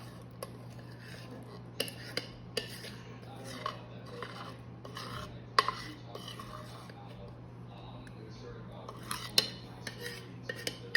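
A metal utensil scrapes playdough from a cooking pot, giving irregular clinks and scratchy scrapes over a low steady hum, fairly quiet and close.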